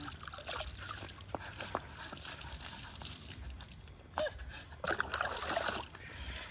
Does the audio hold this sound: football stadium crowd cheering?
no